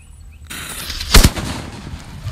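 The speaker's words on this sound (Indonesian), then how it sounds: "Dan di sini sudah ada mercon super kertas. Kita nyalakan." A sharp, loud bang of a small paper firecracker pops once, preceded by a faint hiss, then a lingering noisy tail.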